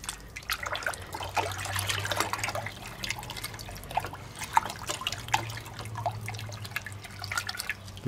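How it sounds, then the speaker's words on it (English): Water sloshes and swirls in a hydroponic Dutch bucket, with a steady close churning of liquid and scattered drips and splashes over a low hum. "Here I get a nice whirlpool going"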